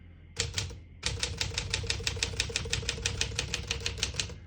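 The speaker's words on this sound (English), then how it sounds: "all the keys type nice and none of them skip or stick" A 1957 Smith-Corona Silent-Super portable typewriter types steadily, with a brief pause after the first two strokes and then a quick, even run of crisp keystrokes close to the microphone, with no one speaking.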